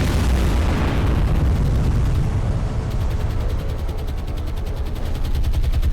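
Bombs and gunfire in War on the Sea, a Japanese navy offensive with aircraft diving on ships: a loud, dense, continuous rumble of explosions and rapid firing with no pauses.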